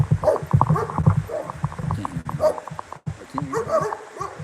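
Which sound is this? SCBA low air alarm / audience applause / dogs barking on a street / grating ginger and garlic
dogs barking on a street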